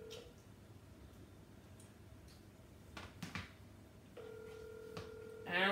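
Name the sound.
telephone ringing during a call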